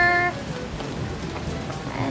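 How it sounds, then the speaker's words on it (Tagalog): Winter rain falling outdoors in the UAE, a steady soft patter of drops with a brief louder burst at the start, continuous and moderately near. "Umuulan na dito."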